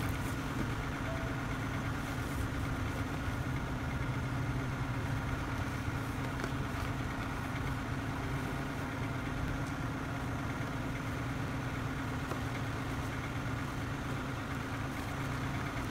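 Car engine running steadily while driving slowly around a corner with snow socks fitted to the tyres, a low, even hum throughout.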